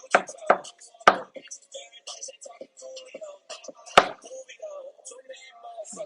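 Knife chopping vegetables for lasagna on a cutting board, a few sharp separate knocks with uneven gaps, and someone talking quietly between the chops.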